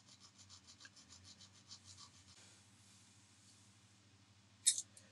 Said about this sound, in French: Donc on va bien limer l'extrémité pour avoir une section bien droite.